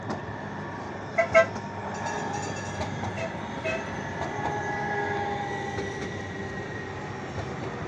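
Tram pulling into a stop, a faint rumbling approach with two short horn toots early on and a low rolling hum throughout.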